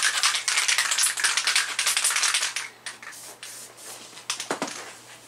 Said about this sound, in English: I'm going to go ahead and spray tacky spray.